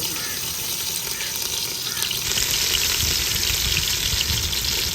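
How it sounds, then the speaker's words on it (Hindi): Garlic-ginger paste hits hot ghee in a home kitchen pan, giving a steady hissing sizzle that grows louder and fuller a couple of seconds in and holds close and continuous. "घी गर्म हो चुका है। हाँ जी। अब लहसुन अदरक का पेस्ट डाला जा रहा है।"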